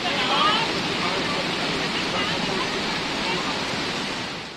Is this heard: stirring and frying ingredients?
no